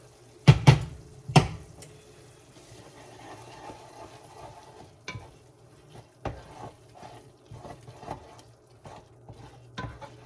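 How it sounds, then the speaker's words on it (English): Beef stirred in a pan at a camp cooking setup: a few sharp scraping knocks near the start, then quieter intermittent scrapes over a low steady hum. "let's give our meat a stir"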